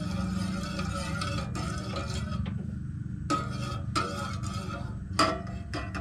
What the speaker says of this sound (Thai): อ่ะกะลงไป เคี่ยวให้แตกมันนะครับ